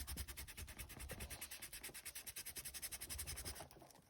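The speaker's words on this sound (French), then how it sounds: "Donc on va commencer par gommer." A pencil eraser rubs back and forth on paper at a desk in quick, regular strokes, a close scratchy swishing that pulses about six times a second and stops just before the end, with no talk.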